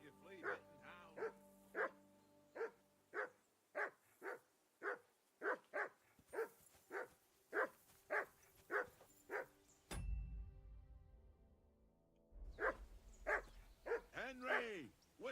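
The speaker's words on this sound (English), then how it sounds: "Be quiet, you flea-bitten hound." In the video game Kingdom Come: Deliverance 2, a hound barks in a fast, regular series of loud, sharp woofs, then pauses briefly before barking again, with game voices and ambience around it.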